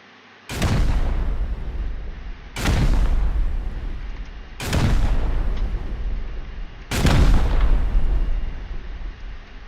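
Gunfire in the survival game Rust: four heavy, booming shots spaced roughly two seconds apart, each loud and close with a long rumbling tail.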